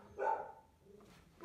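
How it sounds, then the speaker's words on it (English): A single dog bark sounds indoors, clear and fairly close, followed by a quieter, shorter yip, with low room noise behind it. "There's my dog."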